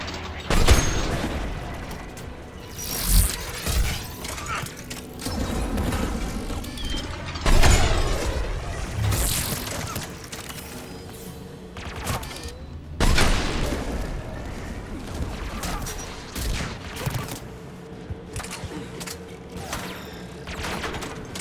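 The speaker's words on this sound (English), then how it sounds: "AA guns ahead of us." Anti-aircraft guns firing in the Mass Effect 3 video game, with heavy booming bursts and mechanical clatter spread across the stretch, several louder volleys rising over a dense rumbling battle backdrop.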